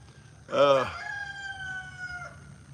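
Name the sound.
rooster crowing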